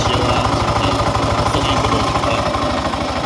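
A Yamaha fuel-injected scooter engine with an abnormal noise runs close by in a steady, fast pulsing idle with a rough rattling tone throughout, alone without talk.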